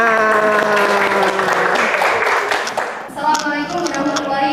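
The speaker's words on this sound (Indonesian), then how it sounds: "Tepuk tangan." An audience applauds after a school presentation, with dense, steady clapping that fills the room, close and loud, while voices talk over it.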